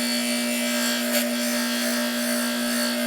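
Aluminum being polished with a pad gives a soft, continuous rubbing hiss over a steady electric hum, close and fairly quiet, with one brief scuff near the middle.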